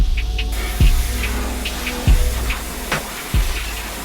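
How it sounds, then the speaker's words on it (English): Steady hissing spray of water from a hose rinsing a car wheel, close and continuous, with a few dull thumps and bumps breaking through. "here I'm just rinsing off any loose dirt before we put any products on the wheels"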